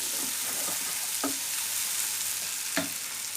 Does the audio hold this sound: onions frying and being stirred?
yes